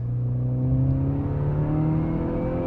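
Modified Volkswagen Polo with four-wheel drive accelerating hard, engine note climbing steadily in pitch as it pulls through a gear, loud and close from inside the car, with no talk.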